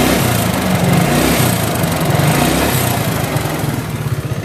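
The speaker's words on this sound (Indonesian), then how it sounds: "jadi suara klep ada" A Yamaha Mio scooter engine runs rough up close, a loud, continuous buzzing idle with a rapid clattering from the valves throughout.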